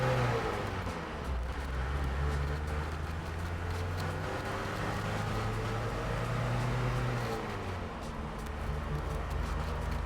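A military 1988 Mercedes 240GD diesel drones steadily while driving on the road, its engine note holding a low, sustained rumble that shifts pitch gradually as it is revved, with continuous road and wind noise throughout.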